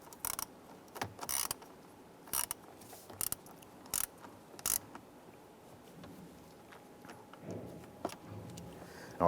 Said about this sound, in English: Then we'll come back with our ratchet here. And we just want to snug those in place.